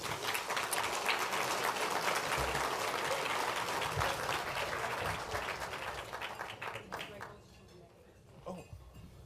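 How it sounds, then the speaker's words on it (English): A crowd at a film editors' awards ceremony claps loudly and steadily for several seconds before the applause fades out, with a voice speaking at the end. "let's a round of applause for that"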